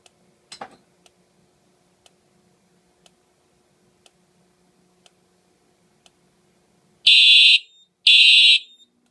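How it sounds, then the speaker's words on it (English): Simplex fire alarm horns sounding after a smoke detector test, two loud harsh blaring bursts near the end, preceded by faint regular ticking and a brief clatter. "the horns came on before the light on the detector came on."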